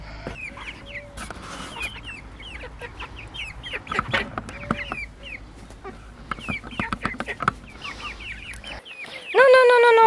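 Chickens cluck steadily around a backyard henhouse, with overlapping clucks and chirps at moderate distance, ending in a sudden louder tonal sound.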